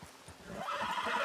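A horse whinnies in a rising, drawn-out neigh, with soft hoof sounds at the start, heard alone and fairly faint.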